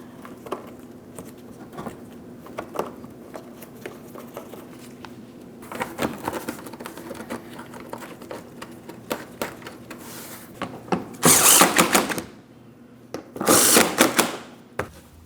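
Control arm mounting bolts being snugged on a Ford Transit 250, heard as scattered metallic clicks and taps of a ratchet and tools, then two short loud bursts of power-tool whirring near the end, close by with no talking.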